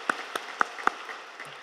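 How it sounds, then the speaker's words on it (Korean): A congregation at an early-morning worship service at Yoido Full Gospel Church offers thankful applause to a missionary after the sermon, heard as a handful of separate, crisp claps spaced apart and trailing off. "은혜의 말씀을 전해주신 선교사님께 다시 한번 감사의 박수 드리겠습니다"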